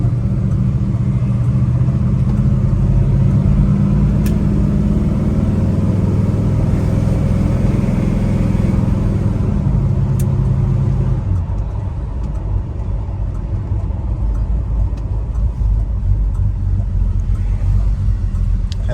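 1971 Chevrolet Chevelle with a 350 roller motor and stall converter driving, a loud deep rumbling exhaust holding steady with a shift in tone partway, heard from close by without talk.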